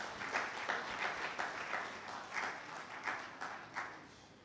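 Audience applause at a post-budget policy dialogue, a moderately distant, uneven patter of clapping with repeated swells, no voices on top.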